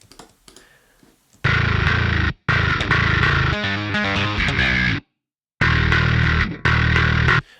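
Heavily distorted, saturated bass guitar riff, loud and gritty, with rhythmic chugging notes and a couple of abrupt stops.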